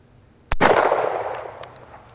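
A single loud shot from a Smith & Wesson 629 .44 Magnum revolver fired outdoors at a silhouette target. A sharp close crack is followed by a long, slowly fading rumble.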